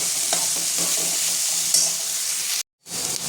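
Samosa filling masala being stirred in a pan with a spoon, scraping and sizzling steadily up close, then a brief silent gap before the stirring and frying resume.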